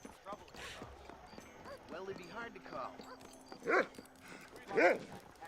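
A dog in the Red Dead Redemption video game gives a few short barks, the two loudest near the end, over quiet game ambience with faint hoof clip-clops and background voices.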